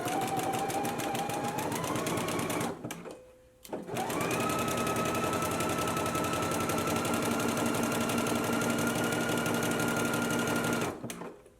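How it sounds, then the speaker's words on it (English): A sewing machine runs steadily, stitching the centre seam of loungewear pants, with a short pause near the three-second mark before the motor starts again and hums on until the end. "let's go ahead and stitch our center seam in place now"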